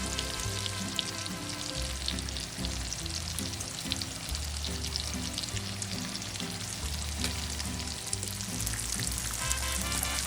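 Cut corn tortillas frying in hot oil for homemade chips, a constant crackling sizzle with dense spitting pops, close and steady, while background music plays along.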